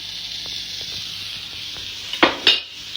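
Scotch bonnet pepper and garlic powder frying in a pan for Jamaican beef patties, a steady, moderate sizzle close by, with two sharp scrapes of a utensil near the end.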